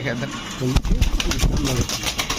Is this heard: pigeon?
yes